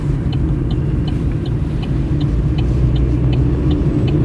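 An Opel Corsa with automatic transmission drives along a road on a driving test, a steady low engine and tyre rumble heard from inside the cabin, with a faint regular ticking above it.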